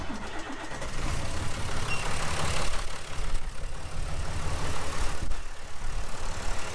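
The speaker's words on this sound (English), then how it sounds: "Okay, take 2 of the start up." A 3350 tractor engine starts and settles into a steady, loud, close diesel idle that rumbles continuously throughout.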